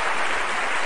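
A crowd claps at Agustín Jiménez's stand-up comedy performance, producing a brief, even roar of applause that stays full and close throughout with no pauses.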